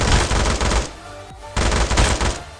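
Rapid automatic gunfire finishing off a knocked-down enemy in a battle royale video game, two loud sustained bursts separated by a brief pause, with no talking.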